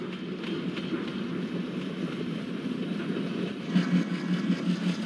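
Train rumble and clattering wheels roll past continuously in a train simulator game, a dense mid-low drone with rhythmic rail knocks, as an express hauled by twin WDM-2 diesel locomotives meets another train passing at high speed.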